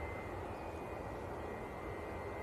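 Tui airliner arriving from Cancun, a steady distant roar of jet engines overhead with a broad rushing drone holding constant throughout.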